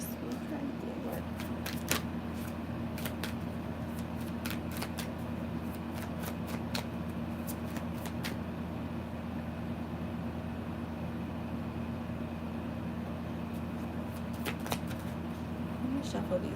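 Tarot cards shuffled by hand during a live reading, a run of soft riffling snaps and flutters spread through the passage over a steady low room hum, with brief quiet talk here and there.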